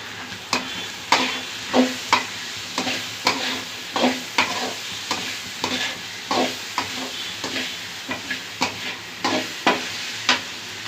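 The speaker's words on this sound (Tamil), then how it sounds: "நல்லா வதக்கி விடணும்." A fish curry base is sautéed in a pan, the spoon scraping and stirring in steady, regular strokes over a soft continuous sizzle, close and clear.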